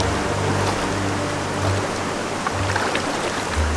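River water rushes steadily during a river crossing on the Lost City trek in Colombia, a loud, continuous close flow with low churning rumble and no voices.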